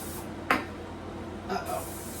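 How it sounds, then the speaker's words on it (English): Two short hissing bursts of cooking spray, about a second apart, close by with a quiet room behind them. "So I am going to spray the small pan."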